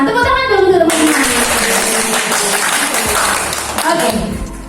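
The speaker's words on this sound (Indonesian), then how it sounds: "Tepuk tangan dong untuk teman-teman." Schoolchildren at an elementary school clap together after a voice trails off, a loud, close burst of applause that holds steady and then tapers, with children's voices mixed in.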